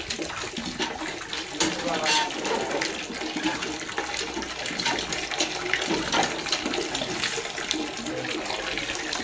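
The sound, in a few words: water flowing from pipe without pumping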